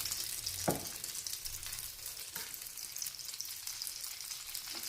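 An onion and tomato omelette fries in hot oil on a gas stove, a close continuous crackling sizzle with a couple of sharp pops and utensil taps.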